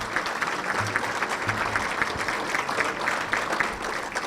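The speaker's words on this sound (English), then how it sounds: "give a big round of applause for all her work on this here night" Audience at a Stockman of the Year award ceremony giving a round of applause, dense steady clapping at a moderate level with faint crowd murmur underneath.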